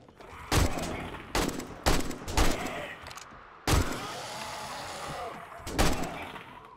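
Heavy gunfire in the zombie survival game 7 Days to Die, with about eight loud, booming shots at irregular intervals and brief ringing tails between them.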